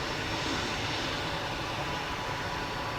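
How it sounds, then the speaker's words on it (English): An Aer Lingus airliner, a 19-year-old aircraft in from Frankfurt, on approach to runway 10R at Dublin Airport: a loud, steady broadband engine roar that fills the whole stretch with no pause. "Next up, Aer Lingus in from Frankfurt. EI651, registration EIDEN"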